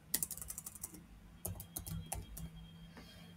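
A password is typed on a computer keyboard in quick, quiet clusters of key clicks, with a short pause in the middle and a second burst after it.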